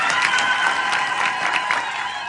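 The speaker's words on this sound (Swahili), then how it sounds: "mpigeni makofi jameni" A crowd at a church gathering in Kenya claps steadily, a dense continuous patter of many hands with some cheering mixed in, without any voice rising above it.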